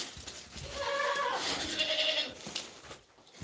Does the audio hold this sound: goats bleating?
yes